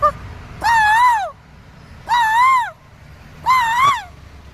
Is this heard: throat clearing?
no